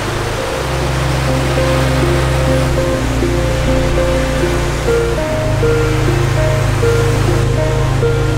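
Ocean waves on the beach at Puerto Penasco (Rocky Point), Mexico, a loud, steady roar of surf close by, with a droning tonal hum and no one speaking.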